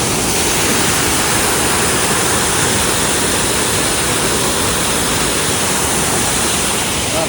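Water rushes at an outdoor scenic spot as a loud, dense, unbroken roar that holds steady from start to finish.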